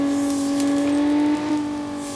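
Car engine in the BeamNG driving game, on the Automation test track handling course with the Crown Model 17, holding a steady high-pitched drone that shifts gear and eases off near the end, close and unaccompanied by talk.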